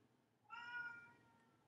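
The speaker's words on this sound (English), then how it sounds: "That's my cat." A house cat lets out a single drawn-out meow, fairly close but soft, rising and trailing off over about a second against quiet background hiss.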